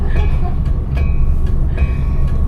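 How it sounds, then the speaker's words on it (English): A Budd RDC rail diesel car running on the tracks, heard from inside as a loud, steady low rumble of the diesel and wheels, with light rhythmic clicks and squeals from the rails. "we're riding this beautiful new RDC"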